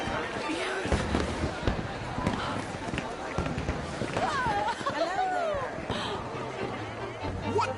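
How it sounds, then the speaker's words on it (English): Fireworks in the Red Dead Redemption 2 video game, a dense continuous stretch of crackles, pops and whistling bursts at moderate distance, with people talking over it throughout. "Let me enjoy the fireworks."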